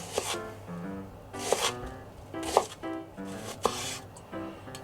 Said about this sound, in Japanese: ネギを薄くスライスしていくんだけど